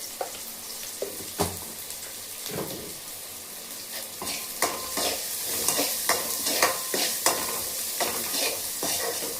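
Turmeric powder sautéing with a spoon scraping through a pan for amla (gooseberry) rice: a steady, close sizzle broken by repeated sharp stirring scrapes and taps, with no voices.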